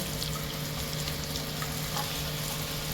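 Cabbage tossed into a hot pan for a chicken vegetable sandwich filling, frying with a steady sizzle and light stirring scrapes throughout, close and continuous with no talking.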